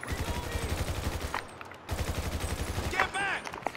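Rapid automatic gunfire in the video game GTA 5, dense bursts of shots with a brief pause midway, then resuming, with a voice speaking over the end.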